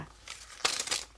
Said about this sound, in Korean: 그냥 스카치 테이프로 이렇게 서로 붙여주겠습니다